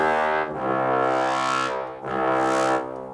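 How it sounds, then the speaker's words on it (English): Orchestral trombones playing two long sustained, brassy notes in succession, loud and close, with a bright harmonic swell on each note and no voices. "Then we have the trombones that are going to sound like this."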